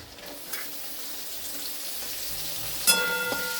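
Chickpeas tipped into a pan of frying potatoes seasoned with salt and turmeric give a steady soft sizzle, with a brief clatter near the end.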